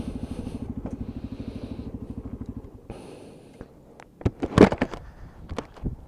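A Lexmoto ISCA motorcycle idles with a steady, even putter, then cuts off and is parked, followed by a few nearby clunks and clatters of handling the bike, no talk.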